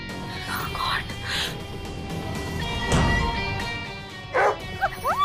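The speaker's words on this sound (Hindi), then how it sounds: "प्लीज प्लीज प्लीज कुत्ते को बाहर हटाइए" A dog yips and barks in short, scattered bursts inside a home, mixed with whispery voices and background noise, with a couple of sharper yelps near the end.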